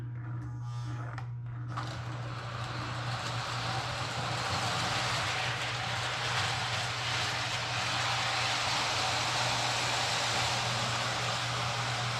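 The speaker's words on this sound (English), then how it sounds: "the Union Pacific passenger train going here" A small electric model Union Pacific passenger train runs steadily in a cold garage with a constant motor hum and a faint rattling roll of wheels, close and continuous after a brief start.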